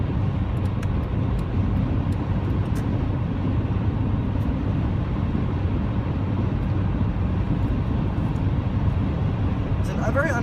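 Steady low cabin rumble and road noise inside a 2000 Honda Civic on the move, a continuous drone with a faint ticking near the end.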